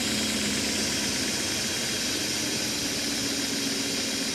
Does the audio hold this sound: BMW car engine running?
yes